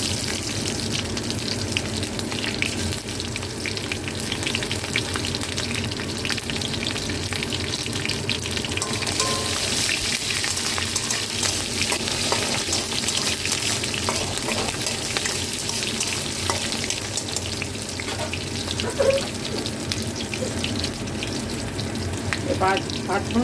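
Panch phoron and green chili frying in mustard oil, giving a loud, steady sizzle with crackling that runs without a break from start to end.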